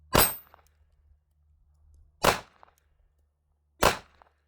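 Three sharp pistol shots from a Smith and Wesson Bodyguard 2.0 .380 fired at targets, each a loud crack followed by a brief tail, spaced roughly two seconds and then one and a half seconds apart.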